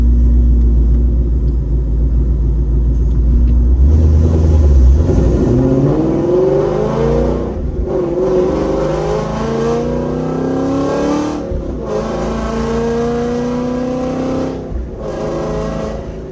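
An FBO CJ 5.0 Gen 2 with a naturally aspirated engine and an extremely loud exhaust drives, deep close rumble with repeated rev climbs and brief drops between gear shifts, steady and continuous throughout.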